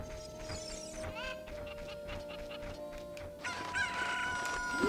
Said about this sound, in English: When you landed, got the cuckoo behind the fence.